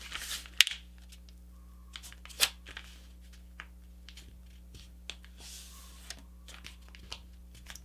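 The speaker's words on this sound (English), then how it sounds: "So I'm just holding the paper there, swinging it open." Soft paper rustles and crisp creases, with a few sharper snaps as a sheet is handled and folded into a paper airplane, quiet and close, under a low steady hum.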